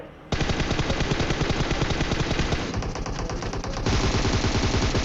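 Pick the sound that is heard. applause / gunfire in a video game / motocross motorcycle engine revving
gunfire in a video game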